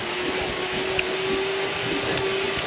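An Ashbys heated Spot Master carpet and upholstery spot-cleaning machine runs with a steady, even motor whine and airy rush, close and constant throughout with no voices.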